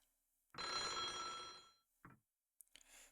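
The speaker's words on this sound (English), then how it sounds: "We silently stared at the ringing phone." An old black telephone rings in the video game Otogirisou, one long loud metallic bell ring of about a second, followed by a short second burst and a partial third, clear against silence.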